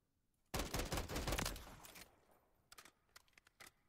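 Burst-mode gunfire in Call of Duty MW3, a rapid, loud volley of shots cutting in abruptly and fading, then a few shorter, quieter bursts follow.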